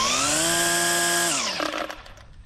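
Ryobi 40V 15-inch cordless string trimmer spinning up to a high, steady electric whine that holds for over a second, then drops in pitch and winds down quickly as it coasts to a stop, close and loud.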